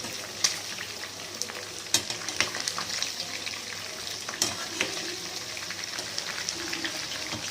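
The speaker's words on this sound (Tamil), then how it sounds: "சிக்கன் வந்து இப்போ நம்ம திருப்பி போடுவோம்" Chicken 65 pieces fry in hot oil and are turned, with a continuous crackling sizzle broken by sharp pops and occasional utensil clinks.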